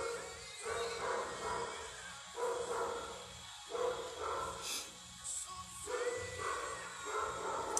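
Dog barking repeatedly at a moderate distance, a run of regular barks with short gaps, fairly faint over a steady background hum.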